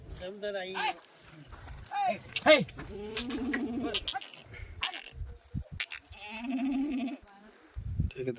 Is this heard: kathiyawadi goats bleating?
yes